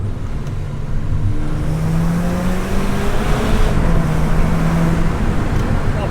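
Turbocharged VW GTI with an upgraded bigger turbo, around 200 horsepower, slowing down in gear: a steady close engine and road drone carries faint, sliding whistle tones that rise and fall beneath it.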